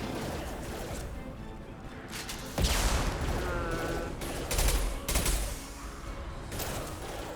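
Enemy rockets fire in Mass Effect Legendary Edition, with booming blasts and crackling explosions over steady combat noise, loud and close, and a voice is faint underneath.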